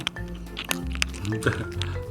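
A cat eating very crispy dry kibble, with a string of sharp crunches and cracks close up. Soft background noise runs underneath.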